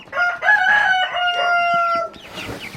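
A rooster crows once, loud and near, a long drawn-out call from young birds in a coop, followed by softer rustling and clucking.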